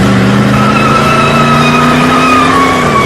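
A classic sports car drives at speed, its engine holding a loud, steady drone with a slowly shifting pitch over a few seconds and no talk.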